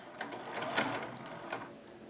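A sewing machine stitches quilt binding along the edge of a quilted tic-tac-toe game, running slowly and softly with a faint whirring hum and light mechanical ticks.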